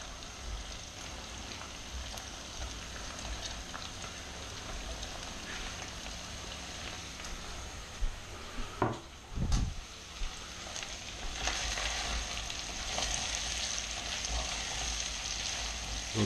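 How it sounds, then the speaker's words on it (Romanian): Onion and capia pepper sauté with chicken breast in a pan, making a soft, even frying hiss throughout, with a few brief louder stirring bumps near the middle. "o să punem ceapa și și ardeiul capia, la călit împreună cu carnea de pui"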